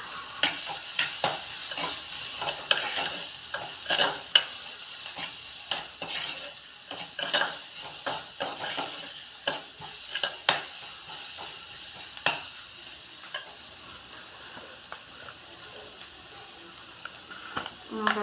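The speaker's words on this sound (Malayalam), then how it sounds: "കുറച്ച് ഉപ്പിട്ട് കൊടുത്ത് നമുക്കതൊന്നുകൂടെ ഇളക്കി കൊടുക്കാം." A spoon scrapes and clinks around a pan while a prawn tamarind curry with salt sizzles softly, with irregular stirring knocks over a steady hiss.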